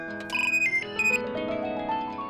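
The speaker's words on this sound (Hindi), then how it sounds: "फोन आया है" A phone ringtone plays a bright, close, electronic melodic jingle of quick rising tones in a household scene from a comedy series, with no talking over it.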